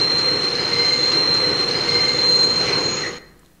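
A train rolls steadily with a continuous rumble and a high, sustained wheel squeal, then quickly fades out as it comes to a stop.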